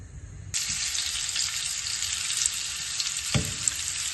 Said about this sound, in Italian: andiamo a rosolare la carne in tutte le parti